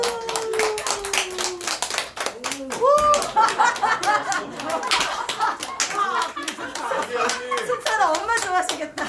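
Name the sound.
audience clapping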